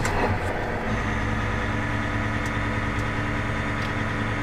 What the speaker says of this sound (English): I'm going to bring the 9460R over, which I believe is our last tractor that needs service